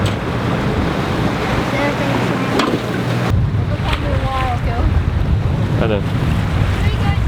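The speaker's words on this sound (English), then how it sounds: "steer down the waves instead of across the waves" A sailing boat runs through waves off Antipaxos, with steady rushing water and heavy wind buffeting the microphone throughout, loud and close. A person speaks briefly over it.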